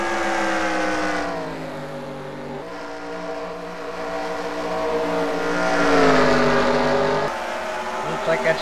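Race cars lapping in a Bristol heat race, engine drones rising and falling as machines pass, a steady roar that swells and shifts pitch.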